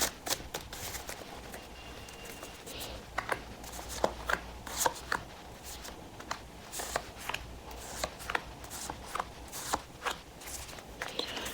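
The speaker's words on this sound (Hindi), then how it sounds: "let me shuffle a few cards for you" Tarot cards shuffled by hand over about eleven seconds, a steady run of soft riffling slaps and flicks repeating in irregular bursts, close and quiet with no voice.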